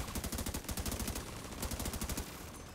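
Rapid automated turret gunfire in The Division 2 on hardcore mode, delivered in fast rhythmic bursts with a short pause partway through, loud and dense with no talk over it.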